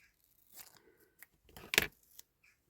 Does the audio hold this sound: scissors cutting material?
yes